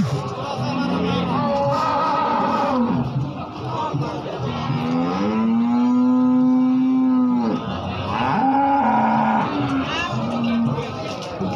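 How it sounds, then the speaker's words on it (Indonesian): Cattle lowing and mooing at the Pracimantoro livestock market in Wonogiri, with long sustained bellows rising over a busy crowd, voices talking throughout. "Sapi-sapi hidupan ini guys."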